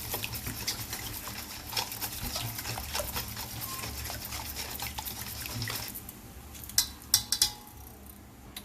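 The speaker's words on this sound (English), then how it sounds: "Alright, I mix that in." Banana bread pudding batter being mixed in a bowl with a spatula: a steady wet, sloshing scrape runs throughout, ending in a few sharp clinks of utensil against the bowl.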